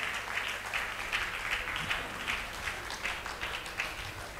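A crowd claps steadily at a lifetime achievement award ceremony marking the Friends Eleven Football Club's 75th anniversary year, a dense, even patter of applause with slight swells.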